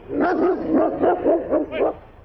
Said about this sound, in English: The dog took a bite out of my coat